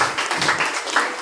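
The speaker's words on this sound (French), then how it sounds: "nous devons applaudir pour nous" A church congregation at a worship service applauds together, a dense wash of many hands clapping steadily and moderately loud throughout a short burst.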